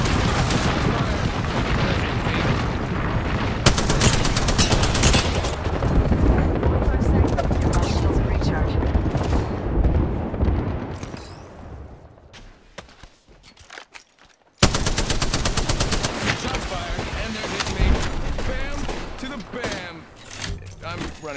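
Video game gunfire in a battle royale match, with dense bursts of rapid automatic shots and booms, loud and near, a short lull midway before heavy firing resumes, with a voice talking over it.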